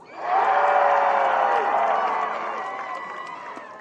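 Crowd cheering for team TORO at ultimate frisbee opening ceremonies, a loud burst of whoops and yells that swells quickly and then slowly fades over a few seconds.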